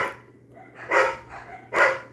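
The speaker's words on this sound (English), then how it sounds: "All these fucking dogs are barking." Dogs barking nearby, two sharp loud barks about a second apart with softer yips between them, under a faint steady hum and no talking.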